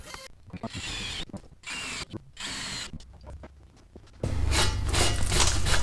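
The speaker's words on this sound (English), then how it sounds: "I'm drilling this a 1/4 inch." Power drill boring a quarter-inch hole through a Viking Extra Large Tour Pack luggage case on a 2007 Star V-Star 1300 Tourer motorcycle, with short bursts of whirring and ratcheting before a steady, louder drilling run near the end.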